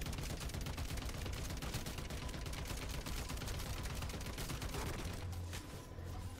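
Sustained rapid gunfire from overpressured rounds in MW3 Zombies, a dense continuous burst of shots filling the whole stretch, loud and close with no pause.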